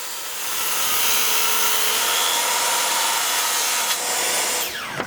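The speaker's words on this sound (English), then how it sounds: "To ensure I get a straight cut, I'm using this Craig circular saw track." Circular saw running along a Kreg track as it cuts a wooden bed frame piece for a vintage camper trailer, a loud sustained whine of blade through wood that drops off near the end.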